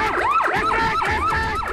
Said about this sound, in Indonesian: 10 mobil pemadam kebakaran dikerahkan untuk memadamkan api.